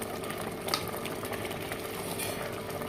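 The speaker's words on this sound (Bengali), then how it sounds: "এখন এরকমই ফুটবে" Water coming to a rolling boil in a pot for basanti pulao, a steady dense bubbling and hiss that stays even and close throughout, with a faint clink or two and no talking.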